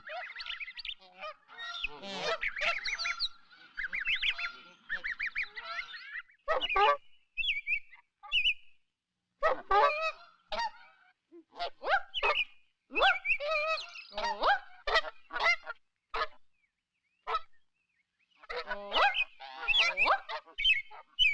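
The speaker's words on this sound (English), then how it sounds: "There are all sizes of geese here at the sanctuary." Giant Canada geese honk repeatedly at a wildlife sanctuary, a flock of adult and young birds calling in overlapping bursts at close to moderate range, with brief pauses between the busier stretches.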